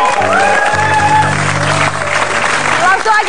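Studio audience applause on an Indonesian TV talk show, a dense loud clatter of clapping with a steady low musical hum and some voices mixed in throughout.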